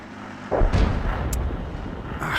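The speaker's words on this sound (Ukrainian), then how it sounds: "Тільки я похвалив є четвертого, його зразу ж артилерія прикопушила." Artillery shell hits in a World of Tanks replay, with a heavy boom at about half a second followed by a rumbling roar and a sharper crack later, loud and close over battle ambience.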